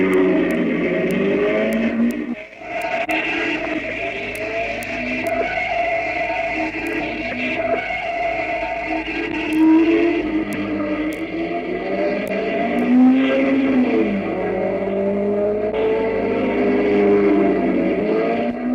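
A racing car engine roars at high revs down the grandstand straight at the Charade circuit, Clermont-Ferrand, 1958–59 Formula 2 era, its pitch rising and falling through gear changes, loud and continuous.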